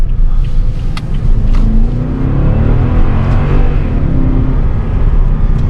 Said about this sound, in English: it shifts down really smooth though, so this thing is, oh, downshift a little bit too quickly though